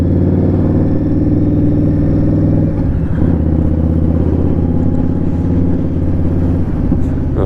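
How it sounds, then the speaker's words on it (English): A loud Indian Scout Bobber motorcycle engine rumbles close by with a throaty, pulsing drone on a spring ride, pitch shifting briefly as it changes speed, no voices. "the bike's bloody loud"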